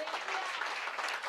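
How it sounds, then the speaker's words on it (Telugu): A church congregation claps together in praise, a dense, steady burst of applause filling the room for a moment. "ఒకసారి గట్టిగా చప్పట్లు కొట్టి దేవునికి స్తోత్రం చెల్లిస్తాం"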